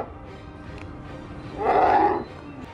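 Polar bear giving a single loud, hoarse roar that swells up from a low rumbling background, lasting about half a second before fading.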